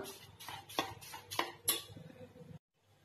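A spoon beats moong dal chilla batter with flour in a bowl: six sharp clinks in quick rhythm over about two seconds, close and moderately loud, then silence.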